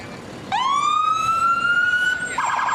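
A fire engine siren at a fall fair parade, engine number 49, wails up sharply and holds a loud, steady tone close by over crowd noise, then breaks into a rougher, warbling blast near the end.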